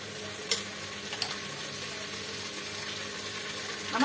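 Goat meat sizzling with browned onions in a hot pan, a steady close frying hiss with a couple of brief scraping stirs.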